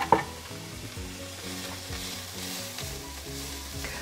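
Mirepoix vegetables sizzle steadily in a hot pan, stirred now and then, a close continuous frying hiss with soft scraping and no talk.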